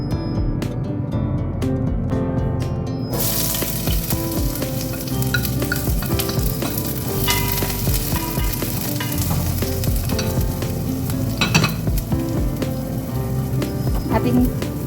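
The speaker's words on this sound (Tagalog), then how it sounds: "Igisa natin ang sibuyas at ang garlic, guys." Onion and garlic sauté in oil in a pan for an adobong kangkong with canned tuna, a steady, close sizzle with stirring scrapes running through the whole stretch, with no talking.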